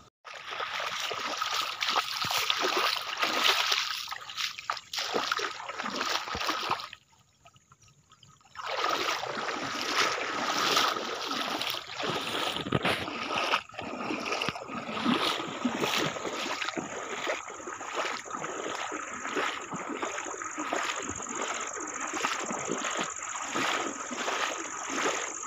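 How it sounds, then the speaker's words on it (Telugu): Rainwater draining from rice fields through an irrigation channel, a continuous rushing flow with splashing, briefly dropping away before resuming steadily. "నీళ్ళు అయితే ఇంకా పొలాల్లో నుంచి చాలా వాటర్ వస్తూనే ఉన్నాయి."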